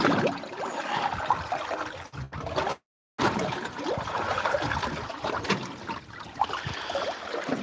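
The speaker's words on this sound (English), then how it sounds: "we'll just give that a little rinse" Water trickles and splashes as something is rinsed during a fishing trip, a near, continuous wet pouring with a brief drop-out partway through and no talk.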